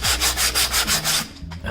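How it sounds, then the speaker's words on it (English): Rhythmic back-and-forth sanding strokes on a Toyota AE86 car bumper rasp loudly and close, about eight even passes, then slow and trail off. "Even if I thought I was done with sanding"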